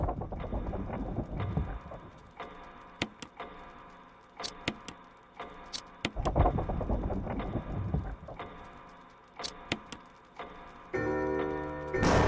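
In the Resident Evil REmake game, a large clock gear turns with rhythmic mechanical ticks and clunks, with sharp metallic clicks at intervals and a chiming tone near the end, moderately loud with no talking.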